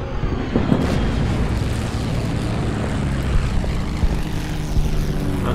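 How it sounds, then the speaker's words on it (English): Bomber aircraft attacking in the strategy game Order of Battle, a loud, steady propeller-engine drone with rumbling blasts mixed in, continuous throughout. "Let's use the bombers for these guys in the ditch."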